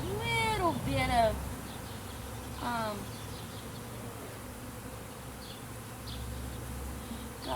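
Honeybee drones buzz inside an open hive, close and fairly faint, with a few louder buzzing passes early on, then a low continuous hum with brief flutters.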